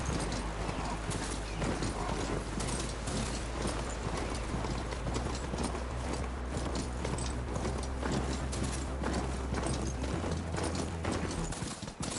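In Horizon Forbidden West, a ridden mount's hooves clop in a steady, rapid rhythm across a dense, loud, continuous game soundscape that runs throughout and fades right at the end.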